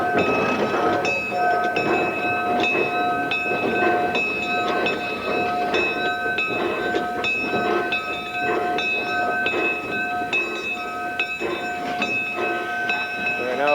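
A steam locomotive rolls along the rails near the end of its run, with a loud, steady rumble and rhythmic clatter of the cars, while a bright, tonal whistle or horn sounds repeatedly over the top.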